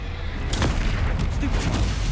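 Confringo fire spell explosions in the PC game Hogwarts Legacy, a couple of sharp booming bursts over a dense, noisy combat background of battle sounds.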